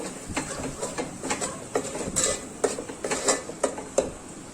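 Ginger, garlic and mint paste is stirred in a metal pot, and a spoon scrapes and taps against the sides in a steady rhythm of clinks. The sound is close and moderately loud, with no talking.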